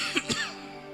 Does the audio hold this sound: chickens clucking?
no